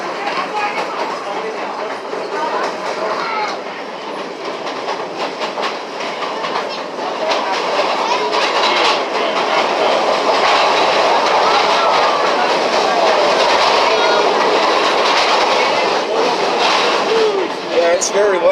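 A passenger train rides through Whiteside Tunnel with only about 1.5 feet of wall clearance, its loud, enclosed rumble and rhythmic clickety-clack of wheels echoing continuously and growing louder partway through.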